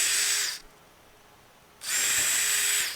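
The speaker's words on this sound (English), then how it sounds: "First we're going to drill a hole." A power drill boring a pilot hole into wood for screws on a chicken coop extension: two loud, steady whining bursts of about half a second and one second, separated by a quiet pause, close by with no talking.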